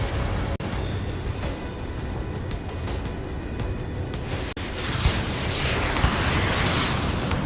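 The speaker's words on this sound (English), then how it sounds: "Missile inbound. Evade." Missile explosions in the Ace Combat video game: a dense, continuous roar of blasts and rumbling booms with a few sharp bursts, loud and sustained throughout.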